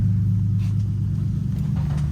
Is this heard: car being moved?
yes